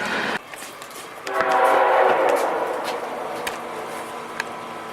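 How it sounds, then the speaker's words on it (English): A passing train sounds its horn in a strong sustained blast that swells and fades, with rail noise and a few sharp clanks underneath, heard close and loud. "Here comes another train"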